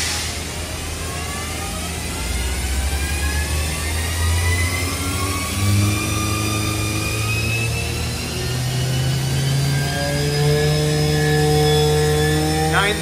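A Mazak 510C vertical machining center's spindle winds up through its speed range at high RPM, a steady loud whine whose tones climb continuously for about thirteen seconds with no talking.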